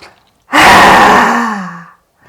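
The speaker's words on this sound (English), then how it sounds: "Let's take a deep breath in. Exhale, stick the tongue out." A single forceful yoga exhale with the tongue stuck out, a loud close breathy rush lasting over a second that fades away, after a faint inhale before it.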